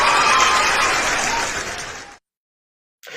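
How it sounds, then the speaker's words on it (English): Audience applause rings out steadily for about two seconds, fading out and then cutting to silence before a faint return at the end. "I need to clap for you."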